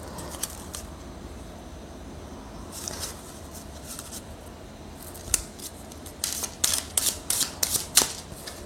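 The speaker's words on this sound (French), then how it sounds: "que je mélange les cartes" Playing cards are shuffled and handled close up, quiet flicks and sharp riffling snaps that grow into a rapid cluster of crisp clicks toward the end, with no talking.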